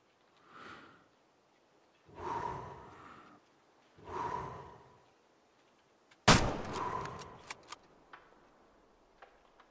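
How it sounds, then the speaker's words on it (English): A single loud, close rifle shot cracks out in the hunting game Way of the Hunter, preceded by a few soft breathy sounds and followed by faint ticks and clicks. "we're going to go ahead and just take the shot with the rifle here"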